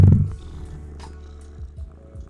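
A pet cat purring close up, a low steady rumbling purr with a louder burst at the start, heard alone in a quiet room.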